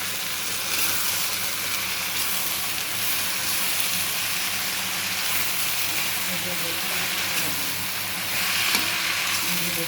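Spices, including turmeric powder, salt, green chillies and cumin paste, are mixed into bottle gourd and catla fish head in a pan, with a steady, close sizzling and frying hiss running throughout.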